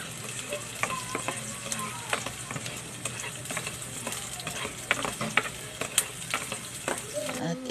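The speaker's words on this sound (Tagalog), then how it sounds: "magisa ng bawang," Garlic and onion sauté in a hot pan for a carne norte dish, giving a steady close sizzle broken by frequent scraping clicks of stirring throughout.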